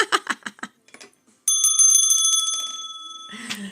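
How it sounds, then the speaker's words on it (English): A hand bell is rung alone: a quick run of shaken strikes, then one long clear ring that slowly fades, with a short rattle at the end. "There's the bell."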